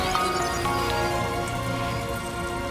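Rain falls steadily in the video game Death Stranding 2, a dense, continuous patter of drops on surfaces with scattered drips, moderately loud and close, with no talking.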